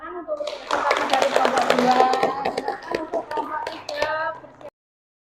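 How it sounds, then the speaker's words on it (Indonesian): Audience applause for a group presentation in a classroom teacher-training session, a steady burst of clapping that lasts about four seconds, with children's voices and chatter mixed in, then stops abruptly. "Kita beri tepuk tangan untuk presentasi dari kelompok 2."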